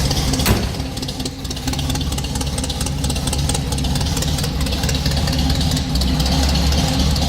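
1968 Chevrolet C10 chopped custom pickup engine idling, a steady low rumbling throb with a slightly uneven pulse, close and fairly loud throughout, no talking.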